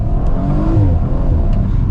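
An Audi RS4 Avant's 2020 V6, rated 450 PS, hums steadily and close up with a smooth, purring engine tone that rises gently partway through, continuous with no talk over it.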